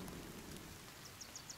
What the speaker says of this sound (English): So the rain puts the fire out